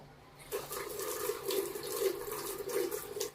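A kitchen tap runs as vegetables are rinsed under it, the water hissing and splashing softly and fairly close, with no talk.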